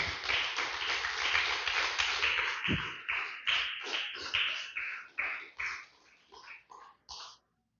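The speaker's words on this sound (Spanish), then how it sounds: "Denle un fuerte aplauso al Señor, aleluya." A congregation at a Spanish-language church service claps for the Lord, a fairly loud burst of applause that thins into scattered, slowing claps and trails off near the end.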